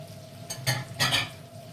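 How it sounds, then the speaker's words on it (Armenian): Fried meat, onion, dried basil, fresh dill and parsley are stirred together in a pan, with two short scraping, sizzling sweeps close by over a low frying hiss. "Հիմա միսը, սոխը, կանաչիները, բոլոր բաղադրիչները խառնեմ իրար"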